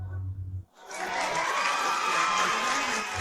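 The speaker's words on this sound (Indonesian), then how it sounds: "Tepuk tangan yang meriah untuk kontestan wanita pertama." An audience at a staged contest claps and cheers for the first female contestant, a loud, dense roar of crowd noise that swells up abruptly after a brief pause and carries on steadily.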